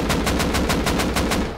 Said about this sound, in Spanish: What the fuck is shooting me?